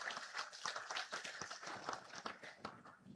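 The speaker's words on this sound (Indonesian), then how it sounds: "Siapa yang tepuk tangan ini?" A crowd at a meeting of researchers with President Prabowo claps hands, a quick patter of many palms that continues steadily for a few seconds, fairly faint and without voices over it.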